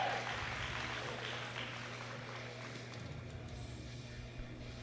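Applause from the audience at a world bench press championship for a Special Olympics lifter in the 59 kg class: a dense, distant clapping crowd that is loudest at the start and slowly thins out.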